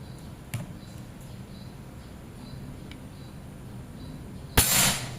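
Quiet outdoor background with a couple of faint ticks, then one sharp, loud PCP air rifle shot near the end. Aluminium 38 mm tube rifle charged to 2700 psi, 30 cm seamless barrel, fired at bricks.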